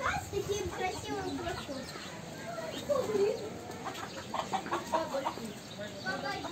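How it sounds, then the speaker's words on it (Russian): A rooster with a handsome tail clucking in a park with animals, short scattered clucks and bird calls at moderate distance while people talk over them. "Первый раз вижу петуха с таким красивым"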